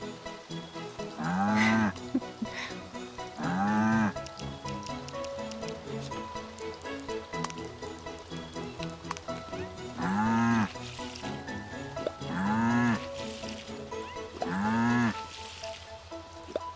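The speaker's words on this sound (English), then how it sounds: "Oh my god, why is this cow adorable?" A cow in the video game Staxel moos five times in drawn-out calls spaced a few seconds apart, over a steady bed of game music and ambient sound.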